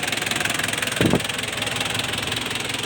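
A Nissan Big M pickup truck engine idles with a steady, even mechanical chug close by, broken by one brief louder knock partway through, and no voices over it.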